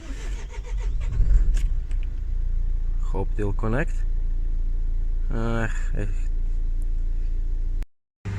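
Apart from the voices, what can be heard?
car engine running during DPF regeneration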